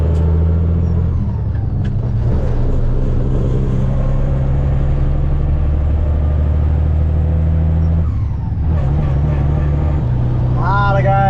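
A farm truck loaded with 2022 corn starts up and pulls away, its loud, close diesel rumble holding steady with a couple of shifts and a rising whine near the end.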